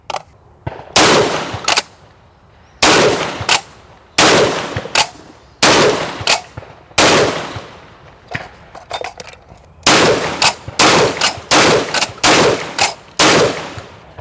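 Loud, close blasts from a Çelik Arms Buck Master Gen 2 M shotgun firing hot Super Duty 00 nine-pellet buckshot during a torture test. Shots come in quick bursts of two or three, with short pauses between strings and each report ringing out briefly.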